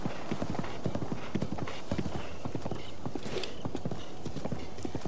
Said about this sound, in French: on est reparti pour un tour à cheval